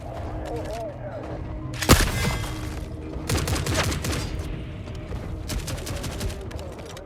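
Bursts of automatic gunfire in a survival video game, loud rapid volleys with a sharp crack near the start, then sustained rattling fire while a player talks over it.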